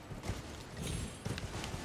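Hooves of a horse in Elden Ring Shadow of the Erdtree drum in quick, repeated clip-clop beats, moderately loud and close, over a low muffled game backdrop.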